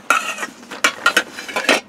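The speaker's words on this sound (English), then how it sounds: "So I got my lid, I got my kettle, my cup, my frying pan, my spatula, my spoons, my cleaning kit, my spork." Metal camping cookware (a kettle, cup, frying pan and spoons) is handled up close, giving a quick series of bright clinks and clatters in uneven bursts.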